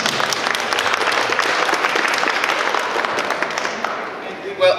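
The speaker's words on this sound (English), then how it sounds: "Let's give them a round of applause." Sustained audience applause for election candidates at a community candidate night, steady clapping from a full room with some voices mixed in, fading slightly near the end.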